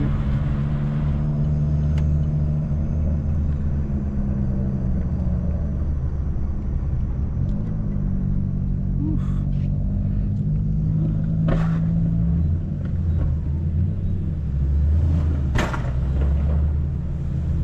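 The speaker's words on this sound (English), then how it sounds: "this car just pops like crazy" A Mitsubishi Lancer Evolution X rumbles steadily while driving, and a few sharp exhaust pops break through the low engine drone. A voice briefly exclaims.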